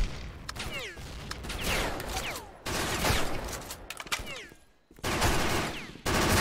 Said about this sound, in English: this grenade launcher is a pretty fun thing